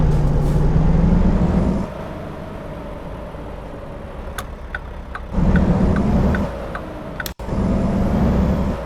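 A truck engine rumbles in American Truck Simulator, with short air-brake hisses and clicks cutting in as the loud idle drops and returns.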